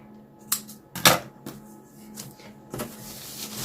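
The end of a fabric rag blanket is trimmed, giving a few sharp, close snips spaced unevenly in an otherwise quiet room.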